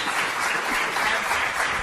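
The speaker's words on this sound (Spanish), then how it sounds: "un gran aplauso para estas dos mujeres" An audience at a Spanish round-table panel on trans visibility gives a big round of applause for two women, a dense, steady wash of clapping that holds at an even level.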